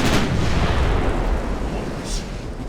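Heavy naval guns boom in a warship battle game, a loud rolling blast whose rumble fills the whole stretch and then slowly decays, with a faint later crack.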